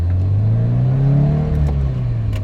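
A Toyota GT86-type sports car engine revs through a valved exhaust with a low, throaty, burbling note, rising and settling over a couple of seconds, heard close and loud.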